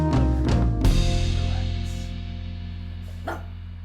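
Several dogs bark in quick succession, a cluster of loud close barks early on, then one more bark after a pause, over a steady low hum with no talking.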